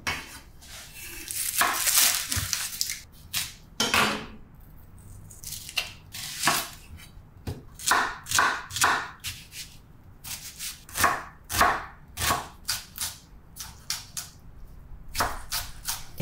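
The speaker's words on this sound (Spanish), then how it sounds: "Pelamos y picamos un par de ajos y una cebolla." A couple of garlic cloves and an onion being peeled and chopped, a long run of close, crisp knife taps on a board in irregular bursts, some brisk and clustered, with small clinks of cutlery between.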